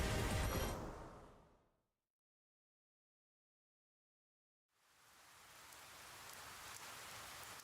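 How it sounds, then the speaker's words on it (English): Rain in the video game 428 Shibuya Scramble: a steady broadband hiss of falling rain that fades out into a few seconds of silence, then slowly swells back in and grows louder. "The rain won't let up."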